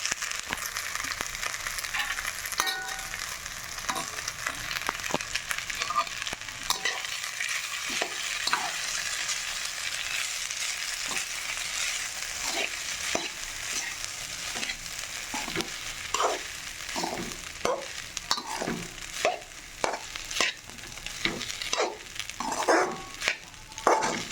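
Rice stir-fried in oil in a pan for a green-chilli fried rice, an ongoing sizzle broken by repeated scraping and stirring strokes of a spoon against the pan, with no voices.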